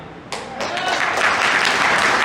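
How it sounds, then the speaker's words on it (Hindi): An audience at a seminar in Noida breaks into clapping that starts abruptly and builds into sustained, fairly loud applause filling the room. "आप ताली तो बजा रहे हो"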